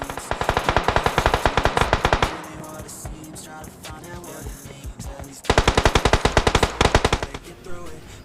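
Automatic gunfire in the video game BGMI comes in two rapid, loud bursts of evenly spaced shots, separated by a quieter stretch with a few scattered distant shots and game ambience.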